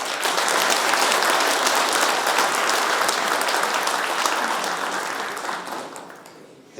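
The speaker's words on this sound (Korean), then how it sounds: "소개가 될 때마다 여러분들 큰 박수로 환영해 주시면 고맙겠습니다" A large ceremony audience gives sustained, dense applause welcoming an introduced guest at an inauguration event, steady and loud throughout before thinning out near the end.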